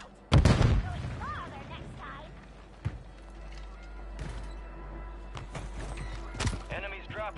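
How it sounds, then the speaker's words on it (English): Grenade explosion in Warzone, a loud deep boom at the start followed by scattered gunshots and pops, with game voice chatter throughout. "Stone grenade out."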